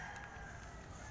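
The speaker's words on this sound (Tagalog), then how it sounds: "So yan, may manok." Chickens clucking and crowing amid an outdoor din, a brief, busy burst of fowl calls at moderate distance.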